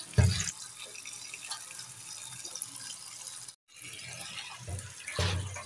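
Chopped cabbage and potatoes being rinsed under a running kitchen tap, with water pouring and splashing steadily throughout, a brief gap partway, and louder splashes at the start and end.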